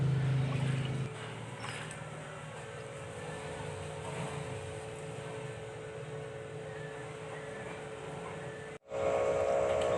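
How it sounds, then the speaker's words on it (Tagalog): An electric water pump drains flood water that has entered a house during the rainy season, giving a steady low motor drone with a faint hum. It runs under a brief louder burst at the start and end. "kailangan ko na pong gumamit ng water pump"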